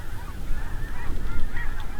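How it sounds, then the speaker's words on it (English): A flock of white-fronted, snow and blue geese honks continuously, many overlapping calls at moderate distance forming a dense, restless chorus over a harvested cornfield. "This time it was a whole gaggle of white-fronted and snow geese, and a few blue geese tossed in there too."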